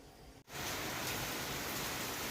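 Heavy rain with wind arrives after a brief quieter moment and becomes a dense, loud, steady downpour roaring without a break.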